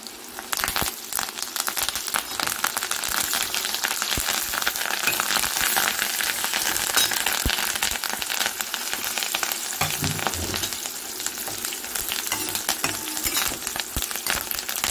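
Curry leaves spit and crackle in hot oil for a bitter gourd curry, a dense, loud sizzle with quick popping bursts throughout, heard alone with no voices.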